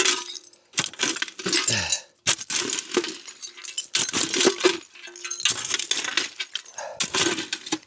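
Shards of broken window glass clink and crunch in repeated bursts, a pile of several stacked windows in a rotten cabin being shifted, close and fairly loud with brief pauses between clusters of sharp tinkling.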